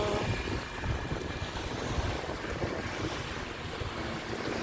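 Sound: waves on a beach

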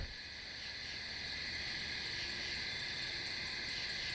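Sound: night insects: crickets, katydids, cicadas in Adirondack woods

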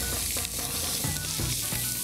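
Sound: potatoes and chopped onion frying in butter

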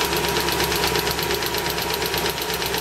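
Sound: BMW E30 318i engine idling with tapping from the cylinder head

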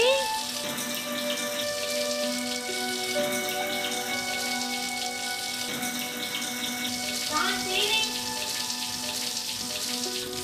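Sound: water running continuously from a tap

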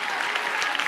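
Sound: church congregation clapping hands

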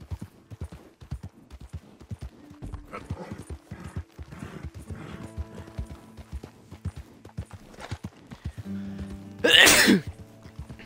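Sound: horse galloping, clip-clop hooves in video game Red Dead Redemption 2

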